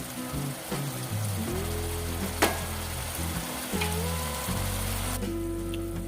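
A pan of egg gravy comes up to a boil, with a soft continuous bubbling and simmering hiss. A sharp clack and a few tonal hums from nearby appliances sit under the cooking sound.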